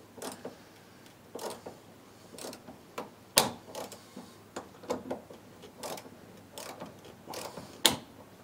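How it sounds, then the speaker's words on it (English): A torque wrench ratchets and clicks during final tightening on a hot tub pump, giving repeated short clicking bursts with a few sharper snaps, close and fairly quiet with no talking. "it is a J-O-T-E torque wrench. So we'll use this to do the final tightening."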